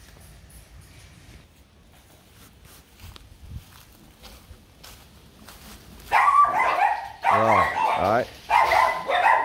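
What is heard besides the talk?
Rottweiler dogs barking at a breeding kennel in Kon Tum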